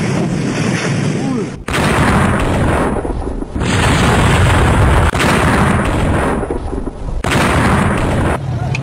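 Missile strikes on militant sites in Pakistan land one after another as heavy booming explosions, loud and close, each blast followed by a long rumbling roar.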